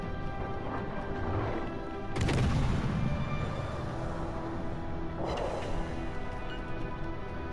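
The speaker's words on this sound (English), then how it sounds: "let's try a full broadside. Five shells. Impacting midship" A full five-shell broadside in World of Warships: Legends, fired from a Tier I French or Russian ship: two heavy booming salvos a few seconds apart over a steady engine and sea rumble.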